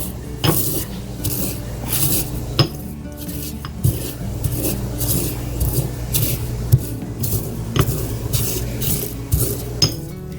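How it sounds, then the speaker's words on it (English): Dried herbs being crushed with a mortar and pestle, giving a steady grinding, scraping rub with occasional sharp clinks of the pestle against the bowl, close and moderately loud, with no talking. "But I'm going to use my mortar and pestle."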